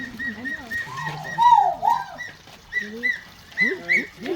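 A Cape thick-knee gives a series of whistling, wavering calls at a safari park, loud and close, with short breaks between them and faint chatter from people nearby.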